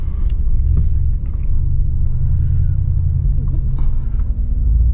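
Mercedes-AMG G63 SUV engine rumbling steadily at low speed through a U-turn, a deep continuous drone heard from inside the cabin with faint clicks above it.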